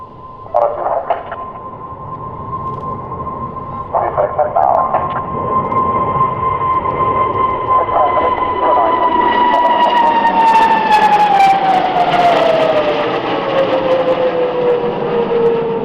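A Hongdu L-15E jet trainer of the Fursan Al Emarat team flies a display at Farnborough Airshow, giving a loud, sustained engine whine that drops in pitch as it passes, over a steady roar.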